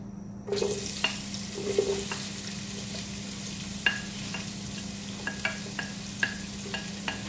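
Onions dropped into hot cooking oil for a beef liver curry, a sudden loud sizzle that settles into steady frying, broken by several sharp spatula clinks against the pan.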